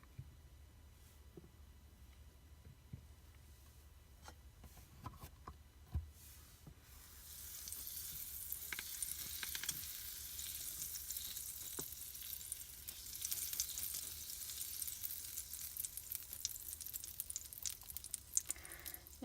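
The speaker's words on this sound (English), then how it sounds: "I'm going to melt a tablespoon of butter." Butter melting in a 6-inch XYY mini skillet, starting as a faint crackle with a few soft clicks and building from about midway into a steady, close hiss of sizzling fat that holds to the end, with no talking.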